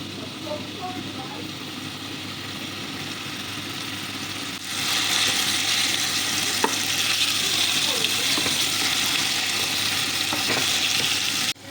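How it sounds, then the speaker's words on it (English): Meat fries in a little oil in a cooking pot, giving a steady close sizzle that grows louder and fuller partway through and continues without pause. "Then you pour in your meat and allow it to fry a little."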